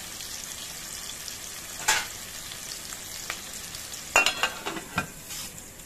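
Garlic and onions sizzle steadily in a pan while being stirred, with a few louder scraping clatters of the spoon against the pan over the continuous frying hiss.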